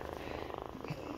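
A domestic cat purrs softly and close up, a low rhythmic rumble that continues evenly for just over a second in a quiet room.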